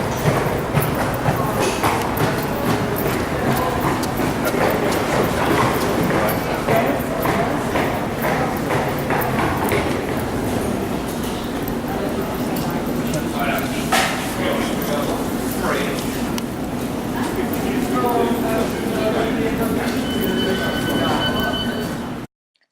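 Inside a London Underground station while going down the steps: a continuous, echoing ambience of footsteps and a bustling crowd, with voices murmuring throughout and rattling rail noise mixed in.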